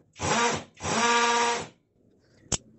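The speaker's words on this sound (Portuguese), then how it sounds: "Agora eu vou colocar a função de impacto." Two bursts of a compact cordless drill in hammer impact mode whine up and down close by, followed by quiet and a couple of sharp clicks.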